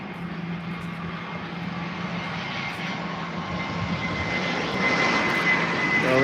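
An Airbus A319 airliner at London Heathrow Airport gives off a loud, steady engine roar with a whining tone that swells gradually as the aircraft draws closer.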